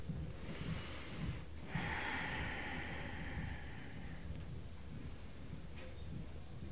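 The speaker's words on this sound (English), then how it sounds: "Just listening for the sound of your breath." Slow, steady breathing during a yoga session for runners, airy inhales and exhales heard close with a faint rushing background.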